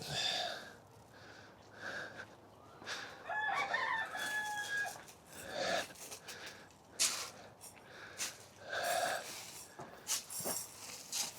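A rooster crows repeatedly on a farm during morning chores, with hens clucking around it; the calls come in several bursts at moderate distance over a quiet outdoor background.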